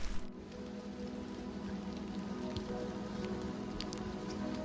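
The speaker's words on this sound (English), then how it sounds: "It's absolutely chucking it down." Heavy rain pours steadily onto the ground and surfaces along a walking trail, a constant dense hiss with scattered louder drops, close and unbroken, no voices.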